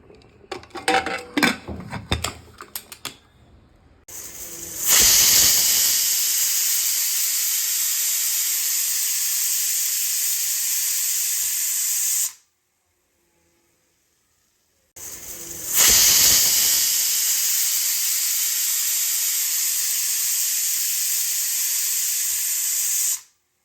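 A pressure cooker cooking matar pulao on a stove lets off two long, loud hissing steam whistles, each lasting several seconds and separated by a brief silence, after some softer clattering at the start.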